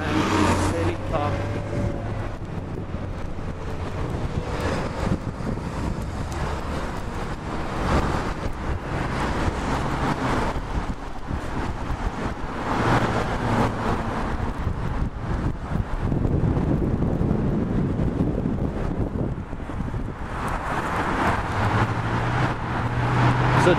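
Steady wind roars across the open lakeshore along Lakeshore Blvd West in Toronto on a freezing winter day, buffeting the microphone continuously, with passing road traffic mixed into the gusts throughout.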